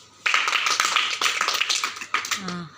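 A small group claps in response to a correct answer in a Bible numbers quiz, a scattered, uneven patter of hands lasting a couple of seconds, with a brief voice near the end.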